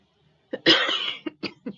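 A person coughs several times in a row, close and fairly loud, with a rough throaty burst followed by shorter hacks.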